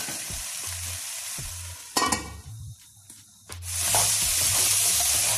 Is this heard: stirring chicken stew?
yes